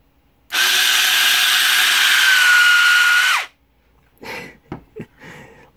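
A FilaMecanum transmission motor spins up and runs at 3000 RPM with a loud, steady whine and a rising pitch, then cuts off after about three seconds, followed by a few short mechanical knocks and handling noises.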